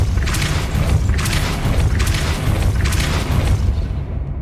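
Depulso spell cast in the game Hogwarts Legacy, a series of heavy booming thumps with a rushing magical burst, repeating about three times before fading out.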